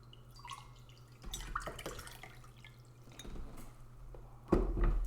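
Drinking water poured into a glass during a live stream, quiet trickling and dripping with faint clinks, ending in a louder splash near the end.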